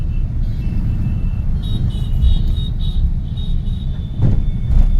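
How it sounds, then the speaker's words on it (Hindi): Evening road traffic in moving vehicles, a steady low rumble of car engines and road noise close by, with brief horn-like tones and a passing vehicle swell, no talking. "मूविंग ट्रैफिक है।"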